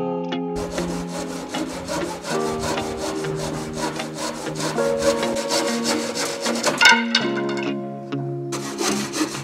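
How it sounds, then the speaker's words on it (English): Wood being hand-sawn into frame pieces for an aquarium lighting bracket, a steady close rhythmic rasping of back-and-forth strokes that runs almost continuously, alone with no talk. "Make sure you cut all your wood nice and square and sand off all the edges to get a real neat finish."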